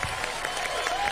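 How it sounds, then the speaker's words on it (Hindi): Studio audience clapping on a Pakistani television game show, a brief dense wash of applause with crowd noise and music underneath. "तालियां बजाएं आप लोग अपने लिए"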